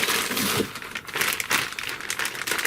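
Plastic bags holding parts from an Axial Ryft RC kit crinkle and rustle up close as they are handled, in a continuous scratchy crackling with brief louder crunches.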